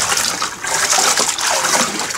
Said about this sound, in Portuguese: Vocês enxaguam aqui o restante do cesto para tirar a poeira que pode ter ficado acumulado